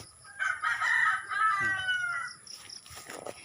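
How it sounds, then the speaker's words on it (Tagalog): A rooster on a farm crows a long cock-a-doodle-doo near the mic, followed by a few softer clucks and rustling. "Ayun, may manok nga doon."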